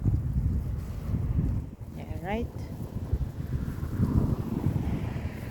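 Wind buffets the microphone with a constant low rumble outdoors, while a person speaks briefly over it.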